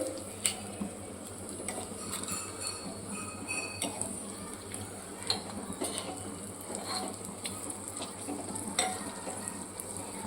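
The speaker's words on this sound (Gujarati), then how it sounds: "આ મરચાંને ચડવતું જવાનું છે અને ધીમા હાથે જ આપણે આજે કરવાના છે" Chillies frying in a pan for a traditional Gujarati parwal (pointed gourd) sabzi, a steady soft sizzle with gentle stirring scrapes throughout, close and moderately quiet with no talking.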